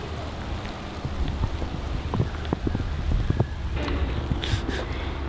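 Steady patter of rain falling outdoors at Taronga Dubbo Zoo, with scattered drips and light wind noise, continuous and moderately loud throughout.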